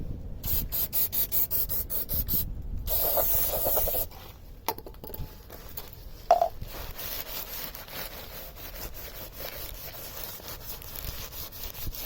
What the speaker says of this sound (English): So what you're going to need is some brake cleaner.